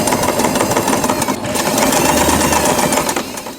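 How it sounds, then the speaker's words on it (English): A sewing machine runs steadily, stitching a label onto a fabric hair bow, its fast mechanical stitching chatter loud and close, with a brief pause near the middle. "Let's take this to the sewing machine."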